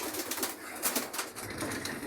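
Pigeons cooing in a breeding loft, soft repeated coos from several birds close by, with faint rustling and no speech.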